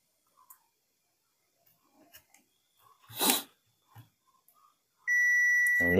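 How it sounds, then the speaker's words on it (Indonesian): Multimeter in buzzer continuity mode giving a sudden loud steady beep near the end, after scattered faint taps and a brief rustling burst of handling noise on a Mi Max 2 phone repair bench. "Kita gunakan mode buzzer aja dulu."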